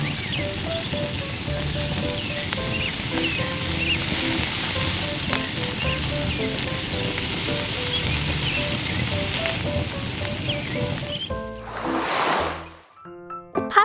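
Cooking oil frying in a tiny pan in a miniature kitchen, a steady bright sizzle running for several seconds under light background music, then a brief swelling hiss and quick clinks before it stops.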